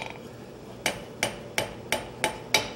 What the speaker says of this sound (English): I'm just using the peen of the hammer to make some ridges alongside there.